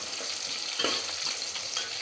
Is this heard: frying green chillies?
yes